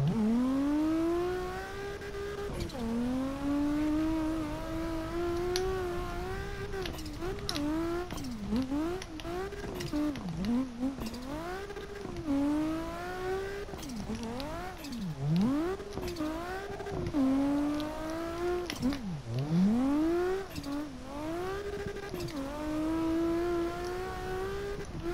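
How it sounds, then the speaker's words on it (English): A Nissan S13 drift car's engine in a video game revs hard and continuously, pitch swooping up and down through repeated throttle blips and shifts, with occasional tire squeal, loud and close with no talk. "this is the best jump drift car I've ever done"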